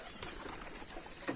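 Local pigeons kept as foster birds, soft faint cooing and light bird sounds over quiet background hiss, brief and close.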